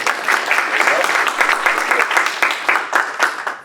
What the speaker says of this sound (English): Let's give an applause for how well your MIGS is going.